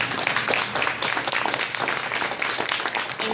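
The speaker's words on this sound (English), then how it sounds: "so we can give you an applause" Audience applause at a Martin Luther King celebration event, a dense and steady wash of many hands clapping that carries on for a few seconds with little else heard.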